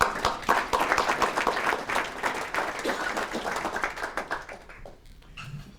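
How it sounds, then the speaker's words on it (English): Audience applause at a community foundation annual reception, a dense patter of many hands clapping steadily for several seconds before thinning and fading toward the end. "So I want to applaud you."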